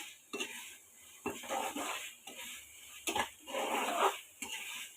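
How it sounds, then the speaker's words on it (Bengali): Basmati rice chicken vegetable khichuri ingredients are stirred and sautéed in a pan over high flame, a metal spoon scraping in repeated bursts over a low sizzle, close and moderately loud. "তখন আমি হাই ফ্লেমে একটু 4-5 সেকেন্ডের মতো একটু এটাকে সটা করে নেয়"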